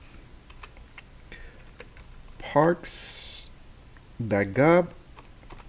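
Keys on a computer keyboard click as someone types, presses backspace and edits text in Publisher, soft scattered taps running throughout, with a man's speech and a short hissy burst in the middle.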